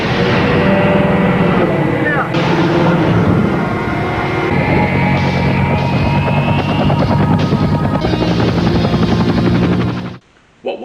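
The helicopter from the 1987 action sci-fi TV series The Highwayman, a semi-truck that turns into a helicopter, roars loudly with a dense rotor and turbine drone mixed with action-scene effects, then cuts off abruptly near the end.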